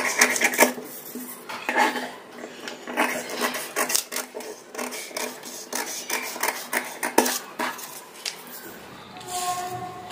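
Scissors cutting a paper pattern for a size 34 katori blouse, crisp snipping and paper rustling in irregular bursts close up, with a few light clicks, no talking.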